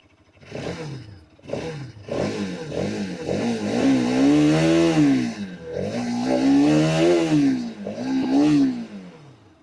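A Bajaj Pulsar RS 200 motorcycle's exhaust revs up and down repeatedly, close and loud, in rising and falling engine sweeps with short pauses between throttle blips and no talking.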